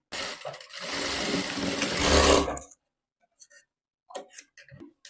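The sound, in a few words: sewing machine stitching a blouse shoulder seam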